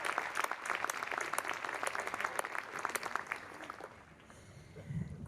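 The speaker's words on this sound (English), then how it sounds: "I think that deserves a round of applause." A crowd at a 2019 commencement ceremony claps loudly and steadily for a few seconds, then the applause thins out and fades toward the end.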